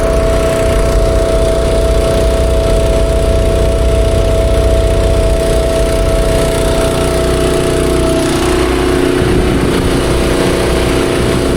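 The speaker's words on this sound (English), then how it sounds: "Turn that pump off for a minute." A small water pump engine runs steadily and loudly up close for the whole stretch, its even droning hum shifting slightly in pitch near the end as the pump starts drawing air.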